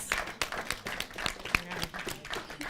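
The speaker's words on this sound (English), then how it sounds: "a round of applause for him" A short burst of scattered hand clapping, fairly close, with uneven rhythm and no voices.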